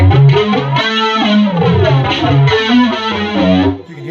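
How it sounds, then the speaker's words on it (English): A guitar plays through a heavy flanger effect, giving a thick, sweeping, whooshing distorted tone with jet-like swirls across a few sustained chords. "you can hear I was experimenting with a little flange there."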